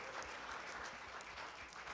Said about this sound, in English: Can we give all of our guests a round of applause?